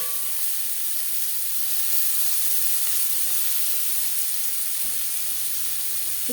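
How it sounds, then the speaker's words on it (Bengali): Chopped onion frying in hot oil in a wok (kadai) for a spicy puti fish curry, giving a loud, steady broadband sizzle that holds evenly throughout without pause, with no voices. "দিয়ে দেবো পেঁয়াজ কুচি"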